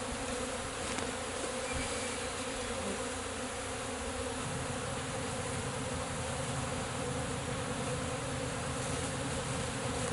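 Dense, steady buzzing of honey bees clustered around a hive during a cut-out removal, a constant swarm drone holding for the full stretch with no voices.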